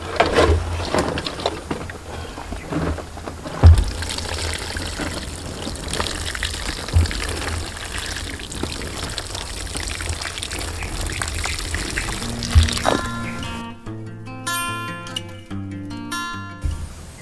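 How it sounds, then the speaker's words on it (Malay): Water poured by hand into a pot filled with a coir and peat moss potting mix, a steady soft trickling and splashing close by for most of the stretch, with brief louder splashes and a quieter, choppier end. "sebelum saya menyemai, saya lembapkan dulu dengan air"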